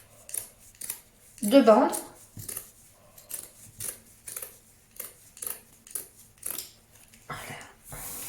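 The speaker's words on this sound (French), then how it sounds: "J'ai pris de la toile de jute. Je vais couper" Scissors snip through burlap jute fabric to cut strips, a series of crisp, close cutting crunches in a loose rhythm, with someone speaking briefly between the cuts.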